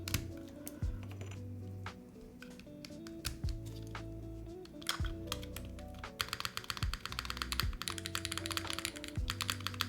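Rapid typing on a Dymium65 mechanical keyboard, with a Nixie spacebar giving a scratchy, Cherry-like stroke that ends in a clack. Keystrokes and spacebar thuds fall in a steady close-up run with no talking.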